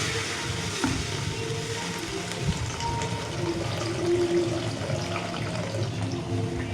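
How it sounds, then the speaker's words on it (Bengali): Water poured into a hot pan of vegetables and dalia, broken wheat, gives a continuous rushing splash with sizzling and hissing beneath, steady and close throughout. "এবার জলটা দিয়ে দেবো।"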